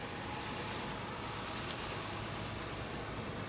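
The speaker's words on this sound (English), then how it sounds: "But listen to the engine." A 2006 car with 300,000 miles and front and rear fender-bender damage idles smoothly, a steady low engine hum mixed with broadband noise, with no talking.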